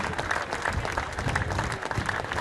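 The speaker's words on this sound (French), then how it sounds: "Photo et les applaudissements du public, Laurens Pitty" Crowd applauding cyclists at a race podium after a bunch-sprint stage finish, a brisk, fairly close burst of many hands clapping that stays steady through the moment.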